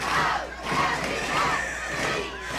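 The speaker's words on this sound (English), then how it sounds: "This home crowd is geeked up" Massed fans in the home stands at a high school football game yell in loud rolling waves, a dense wall of cheering that pulses up and down for a couple of seconds.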